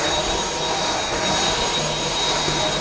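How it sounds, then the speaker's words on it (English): A household vacuum cleaner runs continuously close by, a loud, steady broadband roar with a constant motor whine and no pauses. "I didn't want to throw away this vacuum because the front top of it is totally fine"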